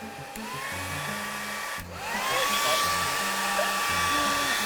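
A hair dryer blows cold air in a steady, loud whoosh with a whine. The motor pitch dips briefly partway through and then rises again, and no voices are heard.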